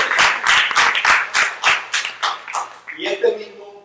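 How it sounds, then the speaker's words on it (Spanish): Congregation clapping in unison during a church service, a steady run of about a dozen loud, sharp claps, then a brief voice or cheer at the end. "Dame un aplauso."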